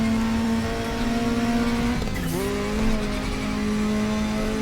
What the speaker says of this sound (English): I was saying you can hear also the misfire when you reach the top RPM